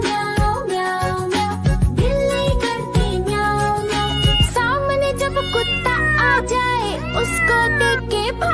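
A voice imitates a cat's meow in a Hindi children's rhyme, singing gliding meow calls over a busy, loud musical backing with no real cat present.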